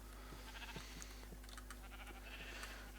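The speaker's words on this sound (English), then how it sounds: "Primitive sheep farm" Sheep on a primitive Minecraft sheep farm bleat faintly and repeatedly, several short overlapping bleats over a steady low hum.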